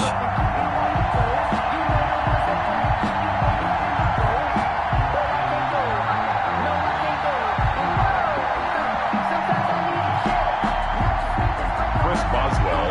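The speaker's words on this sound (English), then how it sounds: "This crowd is ready as their guys get set to match up between the Los Angeles Chargers and the Cleveland Browns." Stadium crowd cheering in an NFL football video game, Los Angeles Chargers vs Cleveland Browns before kickoff, a dense continuous roar with scattered whoops and claps, steady and loud throughout.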